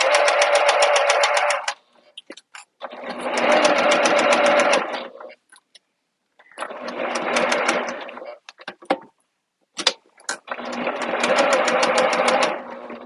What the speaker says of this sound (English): We're going to sew a bit, and then we're going to backstitch.